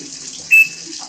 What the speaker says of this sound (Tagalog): Magdadagdag siya ng tubig niyan.